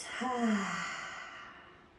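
One long, audible exhale through the open mouth during a workout cool-down, a soft breathy sigh fading out over about two seconds, close and alone.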